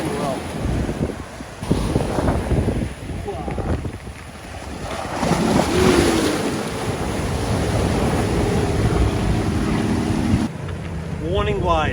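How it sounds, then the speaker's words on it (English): Ocean waves wash and slap around a small fishing boat at sea, with wind noise over the microphone, water surging throughout and someone speaking in bursts. "Warning wave. I call them warning waves because it's likely there's more to come."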